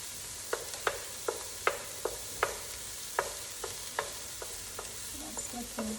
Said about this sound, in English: Then we are going to add the mushrooms and then stir